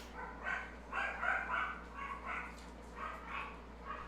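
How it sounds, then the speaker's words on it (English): Several dogs bark in repeated bursts, yapping excitedly at a moderate distance against a quiet indoor background, with no talking. "My dogs are freaking out."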